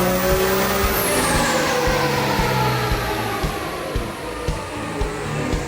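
Turbocharged diesel truck engine, running a 476 turbo baseline on 100% over injectors and a 12mm pump, roars loudly and steadily throughout, a high turbo whine sweeping down early on over the dense engine noise.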